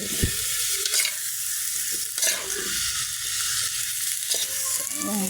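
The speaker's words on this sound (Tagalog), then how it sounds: "Haluin muna natin mga palangga" Sautéed vegetables for pinakbet stirred in a pan, a close sizzle with repeated spatula scrapes and clacks in an uneven rhythm.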